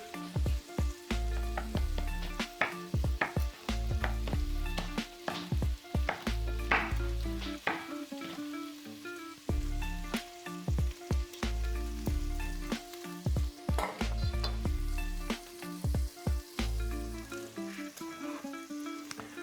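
Sliced chili, finely chopped fresh thyme and a bay leaf fry in a pan, a constant hot sizzle broken by repeated rhythmic stirring strokes and scrapes throughout, close and loud with no talking.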